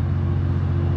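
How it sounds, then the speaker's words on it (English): Generators droning at the Pink Mountain gas station along the Alaska Highway, a steady low hum with a constant mid-level hiss, unchanging and continuous with no voices. "You can hear the drone of the generators running in the background,"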